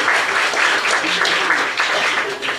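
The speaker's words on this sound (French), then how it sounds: "on leur donne une bonne main d'applaudissements pour les invités" A room full of people applauds warmly, a dense, continuous clapping that holds steady for a few seconds.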